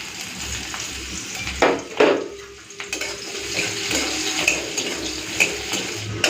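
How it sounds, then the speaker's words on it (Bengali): Chopped onions hit hot oil in a pan already seasoned with dried red chilli and five-spice, sizzling steadily with a few louder bursts and stirring scrapes, close up and with no talk. "তো এখন দিয়ে দিচ্ছি পেঁয়াজ কুচি।"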